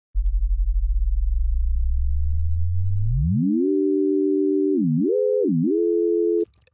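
Synth tone shaped by a frequency shifter and ring modulator: a low buzzing drone glides upward into a steady higher tone, then wobbles down and back twice with LFO movement before cutting off abruptly.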